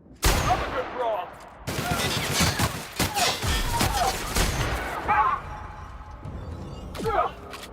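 Rapid gunfire in The Outer Worlds, sustained loud bursts with crashes and impacts, while a person talks over the shooting.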